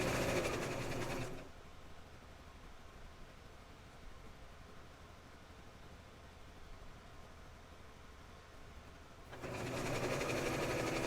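A sewing machine backstitches a seam on an 18-inch doll nightgown, its motor running in a steady, fast, even whir for several seconds. Louder room noise is heard just before it starts and just after it stops.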